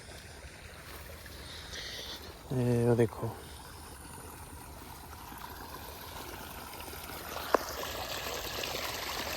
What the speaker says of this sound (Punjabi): ਇਸ ਤਰ੍ਹਾਂ ਚੱਲ ਰਿਹਾ ਪਾਣੀ